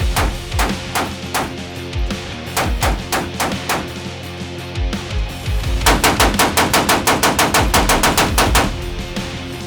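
An 1847 Gatling gun, hand-cranked, fires loud rapid bursts of gunshots: a ragged volley first, a short pause, then a longer, steadier string of evenly spaced shots.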